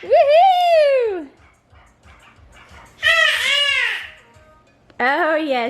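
A young girl imitates a dog, letting out long whining, yelping barks in three loud bursts close by, with quiet pauses between them.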